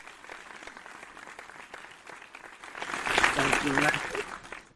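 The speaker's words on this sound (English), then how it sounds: "Big round of applause." An audience at a live show under a tent by a Tiki Bar claps, the applause swelling from scattered claps into a fuller round and then tapering, with a voice speaking over it.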